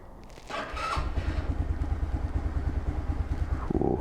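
An old motorcycle engine cranks briefly, catches and settles into a loud, close, rapidly pulsing idle that runs steadily to the end.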